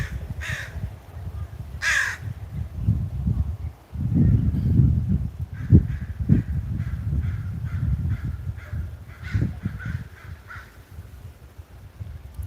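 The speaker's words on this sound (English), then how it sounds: "Crows are everywhere." Crows caw from the trees of Mingus Park, several harsh calls at first and then a quicker run of repeated caws, over rustling and low outdoor rumble.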